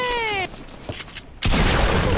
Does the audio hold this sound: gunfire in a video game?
yes